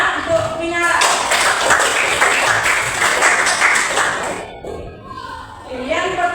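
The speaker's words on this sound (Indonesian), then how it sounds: "Berikan aplaus dulu Nak untuk Minara" A classroom of students applauding a classmate, a dense, lively burst of clapping that fills most of the moment before thinning out, with the teacher's voice heard around it.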